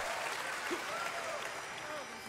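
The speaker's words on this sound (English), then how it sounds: "You hear that cheering?" A crowd cheers and applauds steadily for a performance, a continuous, fairly distant wash of clapping and cheers with a voice faintly over it.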